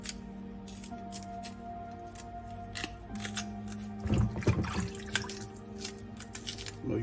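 A green banana is peeled by hand in water, giving soft wet squishes, drips and small tearing sounds close up, with a louder splashy burst midway and a faint steady hum underneath.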